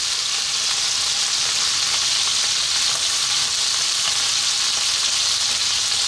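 Onion and garlic frying with beef in a pot over high heat, giving a loud, continuous, even sizzle that holds without pause from start to finish, close up and with no talking.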